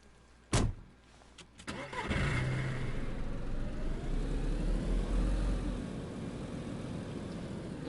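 A car engine in the video game DayZ cranks and starts after a couple of sharp clicks, then settles into a steady running rumble that holds at moderate loudness.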